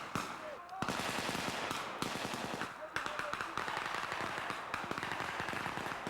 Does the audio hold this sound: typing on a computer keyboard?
no